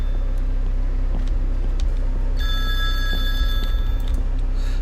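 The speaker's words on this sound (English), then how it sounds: "The phone is ringing." A telephone rings in a pizzeria in the video game Terrors To Unveil, the electronic ring starting halfway through over a constant low rumble, clear and close with no talking.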